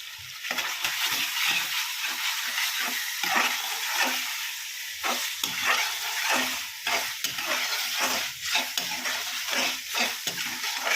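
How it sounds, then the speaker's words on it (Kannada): Bitter gourd pieces fry in oil in a pan, giving a continuous crackling sizzle broken by repeated scraping stirs of a spatula that come close and fairly loud, with no talking. "ಇದು ಚೆನ್ನಾಗಿ ಒಂದು 10 ನಿಮಿಷ ಹೀಗೆ ಫ್ರೈ ಆಗಬೇಕು ಎಣ್ಣೆಯಲ್ಲಿ"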